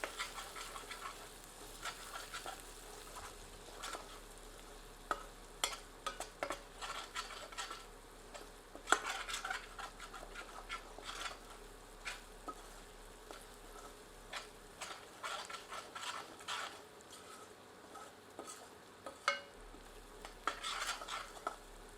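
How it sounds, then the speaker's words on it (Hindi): Lima beans and potatoes with spices and garam masala being sautéed in a pan over medium heat, a steady soft sizzle broken by frequent clinks and scrapes of a spoon stirring against the pan, close and continuous, with no talking. "सबको मिलाकर 2 से 3 मिनट मध्यम आंच पर भूनते हैं।"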